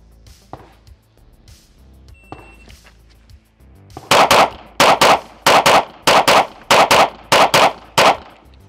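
A Smith & Wesson Equalizer pistol fires in quick pairs, about five loud sharp double shots in a steady rhythm, after a stretch of quiet handling noises.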